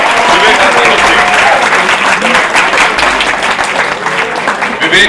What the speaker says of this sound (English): Big clap for Vivek Agnihotri.